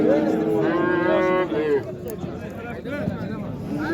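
A calf moos in long, drawn-out calls close by, with people talking in the background of a busy livestock setting.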